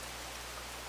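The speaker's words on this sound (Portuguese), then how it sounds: "tá chovendo." Rain falls in a video game, a faint, steady hiss of dense rainfall with no distinct drops, continuous and brief.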